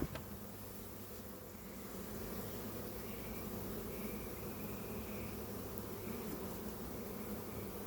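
Dense, continuous buzzing of a large mass of bees, an even low drone that holds steady throughout.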